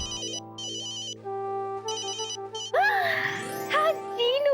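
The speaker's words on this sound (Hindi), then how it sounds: "हाँ जीनू, अच्छा तूने मुझे फोन किया।" An electronic phone ringtone plays in repeated melodic bursts, then a voice chimes in over the ringing.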